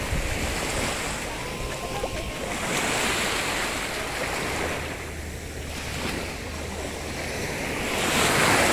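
Sea waves wash onto the beach at Boracay Island in warm morning heat, a steady broad surf roar that swells and recedes, with wind buffeting the microphone and no talking.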